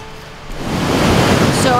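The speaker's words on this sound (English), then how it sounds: "after many days of raining, the river's flowing pretty hard" A creek swollen after many days of rain rushes into a loud, steady roar, flowing hard, near Denton Creek Falls.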